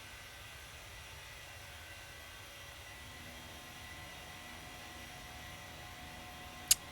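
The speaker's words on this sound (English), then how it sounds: "Good looking airplane," Steady, fairly faint broadband roar of a Boeing 737-800 cabin during the climb after takeoff from Miami, a continuous engine and airflow hiss with a single sharp click near the end and no talking.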